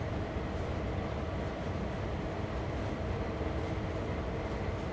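A freight train in the Train Sim World 2 game, on the Sand Patch Grade, gives off a steady, dense rumble of rolling rail noise with no pauses.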